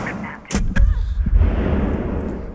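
Heavy gunfire in a round of Rainbow Six Siege, a few loud close booming shots and thuds in quick succession followed by a rumbling tail, with no talk.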